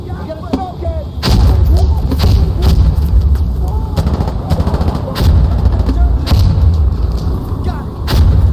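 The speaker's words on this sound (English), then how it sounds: "I'm throwing a grenade!" A grenade detonates in Insurgency: Sandstorm with a heavy boom amid nearly constant close rifle and machine-gun fire, with voices shouting over the din.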